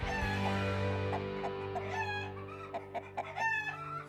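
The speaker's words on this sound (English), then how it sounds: "There's a hen in there." Chicken hen clucking in a farm coop, a run of close, clear bird calls rising and falling with no talk over them.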